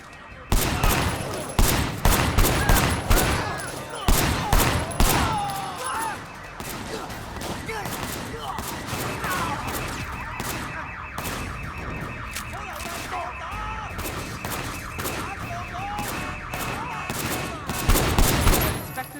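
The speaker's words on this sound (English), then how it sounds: "We have a heavy gunfire situation." Heavy gunfire and machine guns in the video game Sleeping Dogs, loud bursts and single shots early and again near the end, with a blaring alarm-like tone and voices shouting through the middle.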